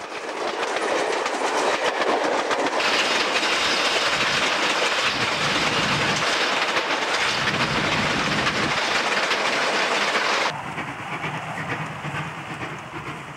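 A steam locomotive hauls a goods train from Dubbo to Gilgandra near Mogragai in New South Wales, a loud continuous rumble of rolling wagons and rhythmic clickety-clack that holds steady before easing slightly near the end, with no voices.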